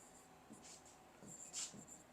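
Marker or chalk strokes scratch across a board in a few short, faint squeaks and taps in a quiet room.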